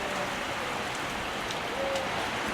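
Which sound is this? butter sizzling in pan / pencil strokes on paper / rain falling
rain falling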